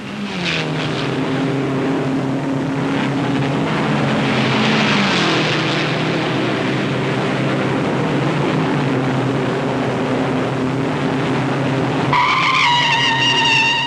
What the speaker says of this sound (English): Uh-oh, Don Edmond spins out.